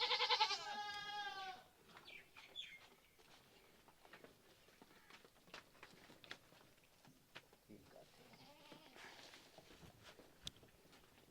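A goat in a Pakistani village being milked lets out one loud, quavering bleat lasting over a second, followed by quiet shuffling, light clatter and faint movement nearby.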